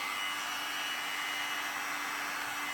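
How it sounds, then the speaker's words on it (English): A 2-in-1 pet hair vacuum trimmer runs with its suction switched on, producing a loud, steady whooshing motor drone that holds constant through the whole stretch, with no talking. "Now with the vacuum."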